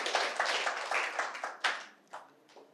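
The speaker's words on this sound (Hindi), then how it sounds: "तो जोरदार तालियां" Audience applause at a Buddhist gathering at Saket Buddha Vihar in Bhandara, a dense burst of hand clapping that thins into a few scattered claps before fading out.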